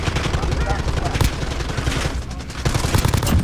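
M91 light machine gun fire in a video game match, a dense, loud stream of rapid shots with other battle noise mixed in.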